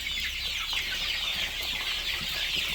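A dense chorus of high-pitched cheeping from many chicks fills the space continuously, loud and close, with no pauses.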